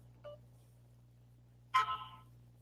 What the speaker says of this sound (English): Oh, now a notification.